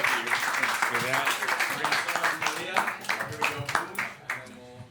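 Audience clapping and cheering at a New York roast battle comedy show, a dense sustained burst of applause that tapers over about five seconds with voices mixed in.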